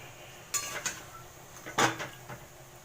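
Fried chicken that was boiled beforehand goes into a pot of spiced curd masala, with a few close metallic clinks and knocks of a spoon against the pot over a quiet background.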